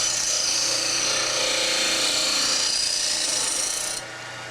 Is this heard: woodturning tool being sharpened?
yes